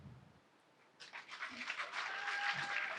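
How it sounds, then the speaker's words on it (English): An audience at a science research presentation breaks into applause about a second in, building to a sustained, fairly distant clapping that holds until the end. "A round of applause, a round of applause, a round of applause."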